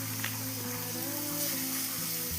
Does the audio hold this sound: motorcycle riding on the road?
no